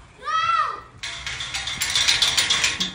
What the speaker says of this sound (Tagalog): Eh ba't kinakalapag mo pa yung gate?